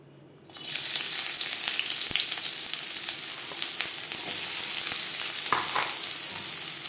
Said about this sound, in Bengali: ভেজ রোল তৈরি করার জন্য সবার প্রথমে আমি সবজি ভেজে নেব